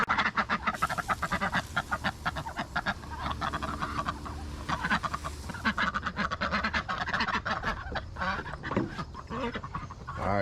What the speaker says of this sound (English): let me feed these ducks right quick.